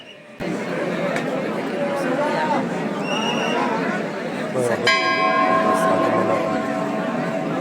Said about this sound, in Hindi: हाँ एक घंटा बड़ा सा आ जाए।